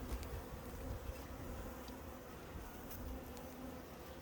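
Honey bees in a beehive full of nectar, pollen and honey give off a dense, steady buzzing drone, close and continuous, with no voices.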